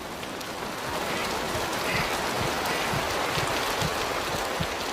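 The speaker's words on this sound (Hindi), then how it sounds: "आसमान से पानी बरस रहा है और ये बहुत ठंडा है" Cold rain falls continuously over African savanna grassland, forming a thick, uniform wash of pattering drops with soft low thuds underneath, close and unbroken from start to finish.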